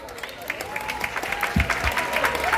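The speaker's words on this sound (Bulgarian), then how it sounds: "Аплодисменти" A crowd at the start of a concert claps in a dense, continuous wash of applause. A few low thumps come through, and voices can be heard faintly underneath.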